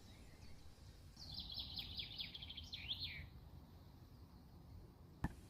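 A robin visiting a small drinking well for birds and animals gives a short run of high, quick chirps lasting about two seconds, faint against quiet outdoor background, followed by a single sharp click.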